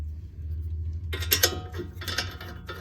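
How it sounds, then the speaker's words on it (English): Bolts being threaded by hand into the front wheel hub of a 2010 Camaro 3.6, giving a few close metallic ratcheting clicks and clinks after a second of low hum, with no talking. "I'm holding the hub with my right hand. I'm gonna start the bolts."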